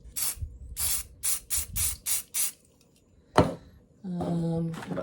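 Spray can squirting paint for spring decorating crafts in a series of seven short, evenly spaced hissing bursts, close and moderate, then a rattle and a sustained humming tone.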